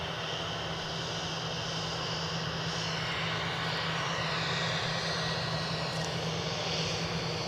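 An EasyJet airliner's jet engines roar at Edinburgh Airport, a loud, steady, broadband rumble and whine that holds evenly throughout with no talk.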